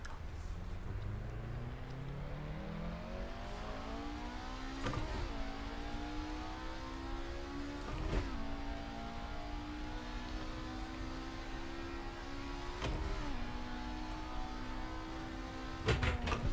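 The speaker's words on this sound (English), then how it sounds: "we might as well get the car on the track" Muscle car engine in a racing video game revving up through the gears, the pitch climbing steadily with sharp shift breaks every few seconds, loud and continuous with no talk.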